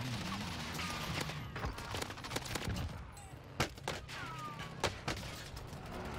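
Sporadic gunfire in Call of Duty: Warzone, several sharp shots cracking out at a modest distance over a continuous background rumble of game noise, with no clear speech.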